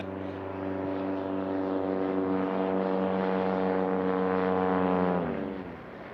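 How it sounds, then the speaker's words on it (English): A Carbon Cub light airplane comes in to land at a STOL drag racing air race, its propeller engine droning steadily and loud for several seconds before the pitch drops and the sound eases as it touches down. "Easing it on in with his Carbon Cub."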